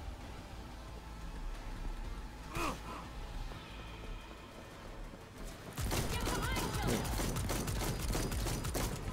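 Power shotgun VST-37 firing in Cyberpunk 2077 against enemies: a single loud blast near the start, then a rapid, dense run of repeated booming shots over the final seconds amid game noise.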